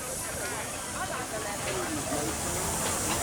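Steady, continuous steam hiss from a miniature steam traction engine, a broad rushing noise that holds even throughout without pause.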